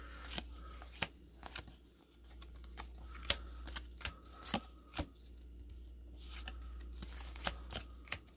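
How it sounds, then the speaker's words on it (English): Rustling and tearing of a UD trading card pack being opened, a series of crisp crinkling snaps and ripping bursts spaced irregularly, close to the microphone. "It's hard to open the pack."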